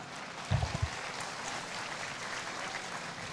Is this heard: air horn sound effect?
no